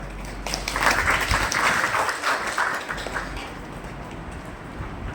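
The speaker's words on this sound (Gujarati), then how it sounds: "આપણે પોતે જ આપણા માટે તાળી પાડીએ એક વખત" Steady applause from a crowd at a committee meeting in the Bhavnagar Circuit House, a dense patter of many hands clapping at once, strongest early and slowly thinning toward the end.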